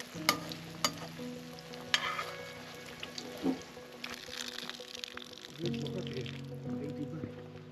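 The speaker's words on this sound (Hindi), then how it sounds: "गरम तेल में एक अंडा डाला जाता है और उसे धीरे धीरे फ्राई होने दिया जाता है।" An egg frying in hot oil in a wok in a remote Nepali village kitchen, quiet sizzling with a few clinks and scrapes, and a voice faintly audible at times.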